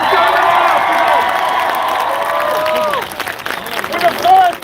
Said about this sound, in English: can everybody give Manchester a big round of applause for getting together?